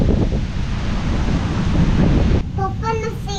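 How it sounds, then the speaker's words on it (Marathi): Strong storm wind during heavy monsoon rain in a Konkan village, roaring loud and steady as it buffets the microphone close up, with a brief voice breaking through near the end. "भयंकर वारा आहे भयंकर वारा."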